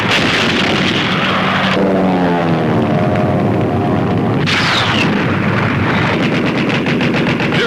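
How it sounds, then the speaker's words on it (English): Anti-aircraft guns firing a sustained barrage during the Battle of Midway, loud rapid bursts with an aircraft engine droning through, dense and continuous with no voices. "the crew calmly fights the flames as gunners keep up their withering barrage of anti-aircraft fire"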